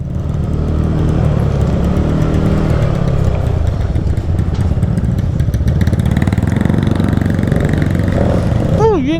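Kawasaki Z900 motorcycle engine running loud and close for the whole stretch, a steady dense rumble with throttle-driven swells, during a big bike rental ride in Bacolod.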